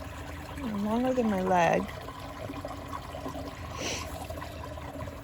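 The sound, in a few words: water flowing in a creek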